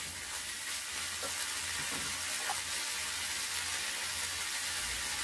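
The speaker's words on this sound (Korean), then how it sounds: "놀면 뭐 하나요? 계속 뒤적여 주세요." Bracken fern and onions stir-fry in a pan, a steady loud sizzle with soft stirring scrapes throughout, close and continuous without talk.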